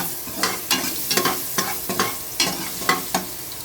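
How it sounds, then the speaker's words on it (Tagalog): Garlic sizzling in hot cooking oil in a pan for Filipino tinolang pata, a steady close frying hiss broken by sharp, regular stirring scrapes about every half second, with no talk. "Nilagyan ko na po ng mantika. Sunod po ay bawang."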